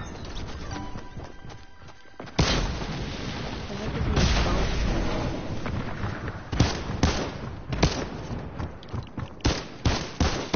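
Gunshots ring out in a Wild West mode of a multiplayer video game: several sharp cracks and bursts come at irregular intervals over a noisy, busy background, with a person talking across them.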